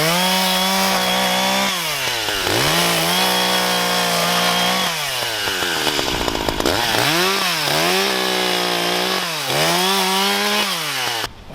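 An Echo CS 590 chainsaw runs loud and close, its engine dropping under load as it cuts into bush wood, then revving back up, over and over.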